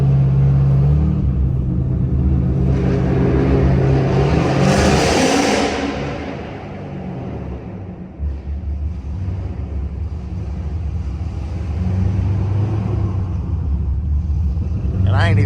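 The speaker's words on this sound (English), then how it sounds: "You got a loud car, you gotta go down this tunnel." A loud Pontiac G8 engine rumbles and roars steadily at night, swelling and easing as it drives through a tunnel with echoing road noise.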